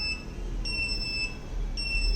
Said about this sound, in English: So there are two different beeps provided for the buzzer as well as ultrasonic sensor